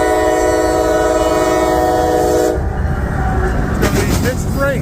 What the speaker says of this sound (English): westbound on track 2 here in Galatea. Looks like, see here, 2 locomotives up front.